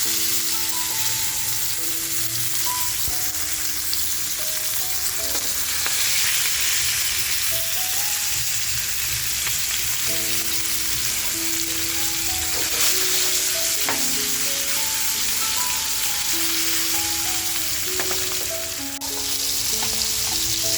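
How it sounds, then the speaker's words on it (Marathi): Prawn-stuffed pomfret frying in hot oil over a high flame, a loud continuous sizzle and crackle held throughout, with faint background music running underneath. "तर आपल्याला हे मस्त आहे ना असं फ्राय करून घ्यायचं गॅसची फ्लेम बघा मी अगदी फास्ट ठेवलेली आहे"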